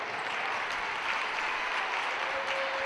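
Applause from a crowd at a high school girls basketball game as a player gets back up after a fall, a steady broad clapping wash of moderate loudness in an indoor gym.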